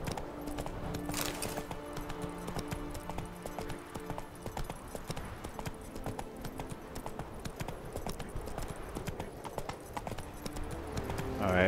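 Horse hooves gallop in The Witcher 3, a steady rapid clip-clop of a ridden horse carrying on without pause under the game's music, with no talking.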